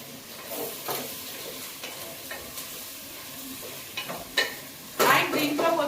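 Onions, tomatoes and potatoes fry and get stirred in a pot for aloo dum biryani, with a steady soft sizzle and scraping stirs that come at irregular intervals and turn louder near the end.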